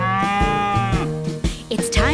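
A cow mooing in a cartoon nursery rhyme about farm chores, one long drawn-out moo followed by lower bovine calls mixed with playful sung sounds and music.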